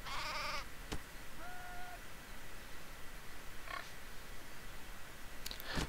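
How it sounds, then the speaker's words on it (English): Sheep in the game Craft The World bleat in short, wavering calls, one near the start and another soon after, over a steady background hiss with a few clicks. "Okay, the sheep."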